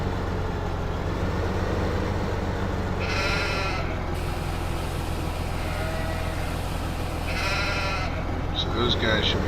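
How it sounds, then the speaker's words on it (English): Sheep in a farming video game bleat twice, close and distinct, over a constant low engine-like hum, with someone talking through most of it. "Let's get out of here for a second so we don't have to listen to the sheep."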